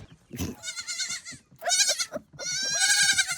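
Hungry young goats bleating loudly in three separate drawn-out cries, close by, with short pauses between calls.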